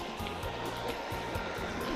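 Water pours over a small weir at a riverside fishing spot: a continuous, even rushing wash, fairly near and steady throughout, with a faint low rumble beneath and no voices.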